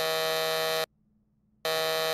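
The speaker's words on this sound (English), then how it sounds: "Wrong buzzer sounds." A harsh, loud wrong-answer buzzer sounds in two long blasts separated by a brief silence, with the second blast cut short. No voices are heard.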